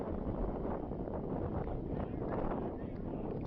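Gusty wind buffets a microphone on a windy morning at a U16 soccer match at Florida International University, making a steady, loud, low rumbling roar that covers everything else throughout.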